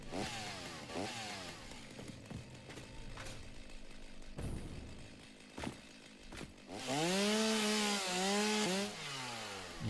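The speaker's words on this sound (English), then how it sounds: "Can I chainsaw the larger ones?" Chainsaw cutting down large trees in the game Satisfactory, a revving, whining saw that rises and falls across several cuts, loudest and most sustained near the end, with no talking.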